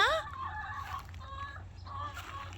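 Backyard chickens in an Ohio springtime yard make brief, faint honking clucks and squawks, a short cluster of fowl calls over low background hum rather than a full crow from the rooster Romeo.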